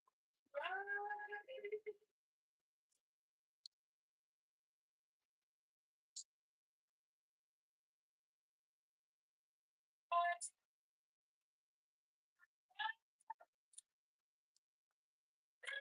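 A kitten gives one short meow near the start in a very quiet room, followed by scattered faint clicks and ticks against near silence.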